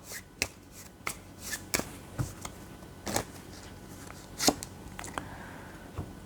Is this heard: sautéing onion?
no